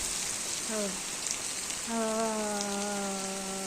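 Steady hiss of rain falling, with a brief voice early on and a longer sustained tone, like someone speaking or calling, over the downpour.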